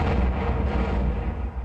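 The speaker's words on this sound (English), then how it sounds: "Her 14-inch guns could fire a shell 20 miles." A battleship's 14-inch guns fire in a loud, sustained, rumbling boom that fills the whole short stretch, with no voices over it.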